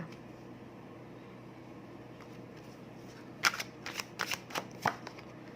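Tarot cards being shuffled and drawn give a quick cluster of crisp riffles and snaps near the end, close and fairly faint, after a quiet stretch of room hum.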